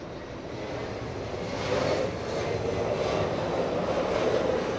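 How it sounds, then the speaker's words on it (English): A China Southern Airlines Boeing 787 Dreamliner arrives at LAX after a twelve-hour flight, its jet engines a steady, moderately distant roar that swells slightly midway. "We have a Dreamliner number 2 for arrival. It's China Southern Airlines"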